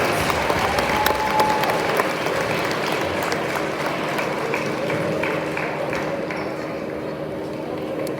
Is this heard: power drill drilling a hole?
no